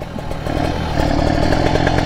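A tuned motorcycle engine revs hard and continuously, its loud, raspy note climbing and cutting briefly at each quick gear shift, with no pauses and no voices.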